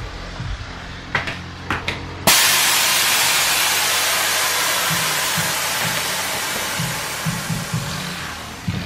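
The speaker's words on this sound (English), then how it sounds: "So we're gonna give you guys an air out." A custom widebody Dodge Charger's air suspension dumps its air in one loud, steady hiss. The hiss starts abruptly after a few short clicks and holds strong throughout the clip, with faint thumps beneath it.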